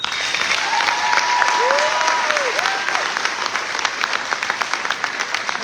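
A crowd applauds graduates at a finishing-class celebration, with steady, fairly close clapping throughout as a brief whistle-like tone sounds early on.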